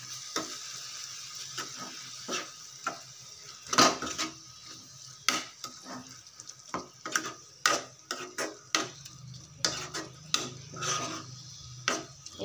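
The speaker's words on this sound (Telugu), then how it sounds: "ఇప్పుడు మనం పట్టు పెట్టుకున్న బెల్లం పాకాన్ని వేసేసుకొని బాగా కలిపేసుకోవాలి." Jaggery syrup stirred into a carrot and fresh coconut laddu mixture in a pan, with repeated spoon scrapes and knocks against the metal over a soft sizzle, close and without speech.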